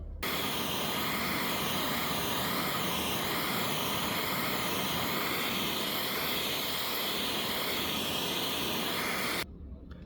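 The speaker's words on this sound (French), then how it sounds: "je vais reprendre mon chalumeau, acétylène et oxygène cette fois, et je vais venir chauffer cette suie noire que je viens de faire" An oxy-acetylene torch heats black soot on aluminium with a loud, steady, close roaring hiss that runs almost unbroken, then cuts off abruptly near the end.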